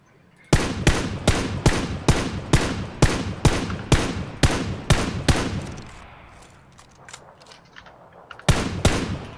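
Rapid bursts of automatic gunfire in the battle royale game PUBG (Battlegrounds), about a dozen loud evenly spaced shots, a fading tail, then two more sharp shots near the end.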